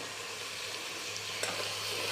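Chopped tomatoes sizzling steadily in a hot pan, a continuous close frying hiss with a faint scrape of stirring, heard alone without voices.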